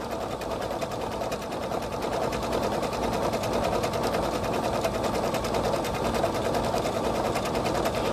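Sewing machine stitching quilt fabric with embroidery weight thread in a steady, even run of rapid needle clatter, close and continuous throughout, with no talking.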